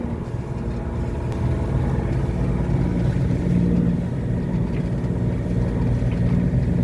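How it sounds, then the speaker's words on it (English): A sailboat's diesel motor runs steadily at sea with a full fuel tank, a continuous low droning hum with no talk over it. "So I just kept the motor on."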